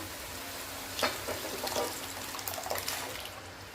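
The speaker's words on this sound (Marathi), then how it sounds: "इथे मी आता तीन ग्लास पाणी टाकत आहे" Water is poured into a pan of spicy misal gravy, giving a steady liquid rush with bursts of splashing and sizzle that keep on at a moderate level, close by and without talk.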